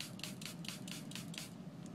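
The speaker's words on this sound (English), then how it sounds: "I'm just going to spray it with water and make kind of a paint" Rapid spritzes from a spray bottle spraying water onto paint, about eight quick hissing bursts in a loose rhythm, close and fairly quiet, with no talking.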